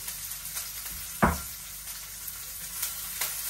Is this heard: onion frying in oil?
yes